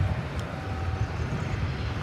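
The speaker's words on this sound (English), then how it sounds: "I think I may hear a UPS plane warming up over next to us." A UPS plane warms up its engines at DFW Airport, a steady broadband roar with low rumble that holds evenly throughout, moderately loud and somewhat distant.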